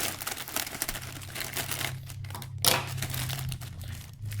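A bag of cake mix for a pineapple upside-down cake is cut open at close range, with crinkling and rustling plastic throughout and a sharper crackle and snip partway through.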